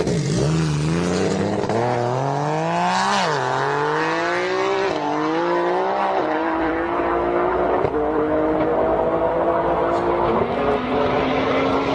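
Modified Nissan GTR drag car built by English Racing launching hard and accelerating down the strip, loud close engine with rising, stepping pitch through gear changes for the full run, no talk over it.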